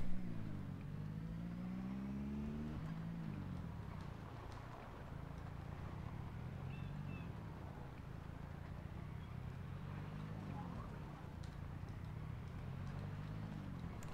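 A car in the Project Zomboid video game drives along with a steady mid-pitched engine drone, its pitch rising briefly early on, staying loud and continuous throughout.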